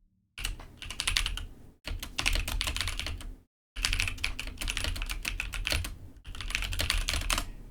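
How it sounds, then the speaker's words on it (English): Close, crisp clatter of typing on a computer keyboard in three dense bursts separated by short silent pauses, with no voices. "you could hear all that typing"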